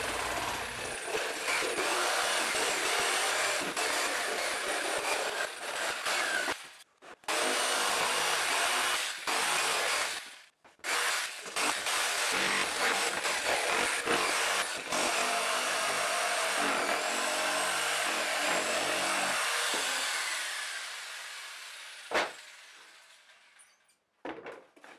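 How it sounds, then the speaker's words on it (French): A jigsaw buzzes steadily through a wooden template for a baritone acoustic guitar mold, cutting in long runs with two brief pauses, then slowing and stopping near the end. "Ce gabarit, je le découpe à la scie sauteuse."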